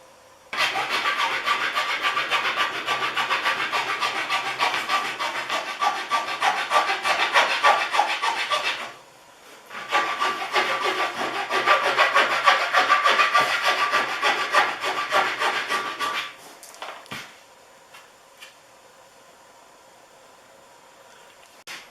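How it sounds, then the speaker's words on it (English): Steady rasping strokes of a 6-inch rat tail file cutting nock grooves in a maple bow, a long run of filing, a short pause, then more filing that tapers off into quiet. "I'm going to use a 6-inch rat tail file to file my nock grooves."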